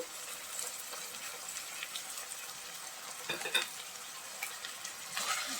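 Gongura chicken frying in a pan with salt added, a soft, quiet sizzle with occasional stirring scrapes and a brief louder clatter near the end.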